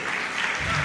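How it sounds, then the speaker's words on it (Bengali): Brief, dense clapping from an audience for a student at a young magician's show, under a second long and steady throughout. "আসিমের জন্য একটা হাততালি"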